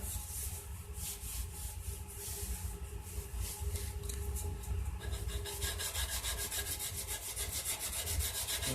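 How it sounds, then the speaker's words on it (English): A sanding block rides along the grain of a wooden cigar box guitar neck during hand shaping, giving close, steady back-and-forth rasping strokes in a quick repeating rhythm with no talk. "I'm just riding the block along the grain."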